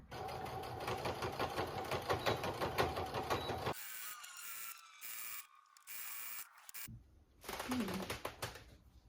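A home sewing machine runs a straight stitch around a pirate costume seam, whirring in a fast steady mechanical chatter, then stopping and starting in short bursts with brief pauses between runs.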